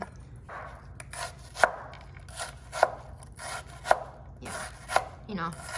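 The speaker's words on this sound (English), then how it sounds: "Traditionally you would just chop it up with a knife, right?" An onion chopped with a knife on a board for tabouleh: four sharp, evenly spaced blade strikes with soft slicing and rubbing between them, close and clear with no talk over them.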